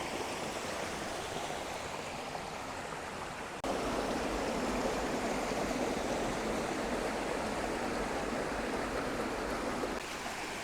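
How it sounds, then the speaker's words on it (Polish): Water falling into a plunge pool in a mountain stream, pouring onto the rocky bed. A steady, rushing roar with no voices, growing louder and fuller after the first few seconds. "ta spadająca woda, przez długi okres, uderzając o dno, szorując tym materiałem na dnie"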